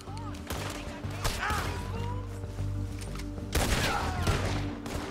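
Gunshots from Red Dead Redemption 2 crack out in a few loud bursts, separated by quieter stretches, while game voices and ambient sound continue underneath.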